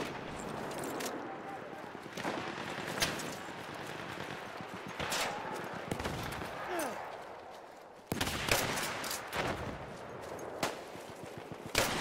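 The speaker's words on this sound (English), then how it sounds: "I like the sound of these shotguns." Sharp shotgun blasts crack out in Battlefield 1 multiplayer, several irregular shots with a heavy burst near the end, mixed with other game noise and a player talking over them.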